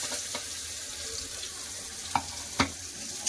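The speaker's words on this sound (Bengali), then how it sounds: "ফোড়নটা খুব ভালোভাবে হয়ে গেছে দিয়ে দিচ্ছি কেটে রাখা পেঁয়াজ" Chopped onion hits hot oil seasoned with cumin, dried chilli and bay leaf, giving a steady close sizzle with a few sharp clinks of a spatula against the pan.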